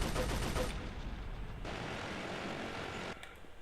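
An anti-vehicle turret fires in Quake Wars, rendered as a dense, continuous roar of rapid shots under engine noise before it cuts off sharply near the end.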